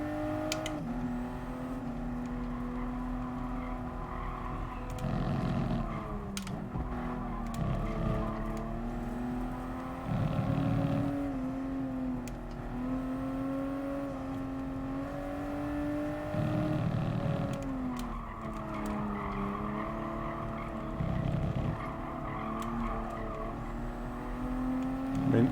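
Race cars in Gran Turismo Sport lap a circuit, engines droning continuously with pitch rising and falling through gear changes, interrupted by occasional tire squeals.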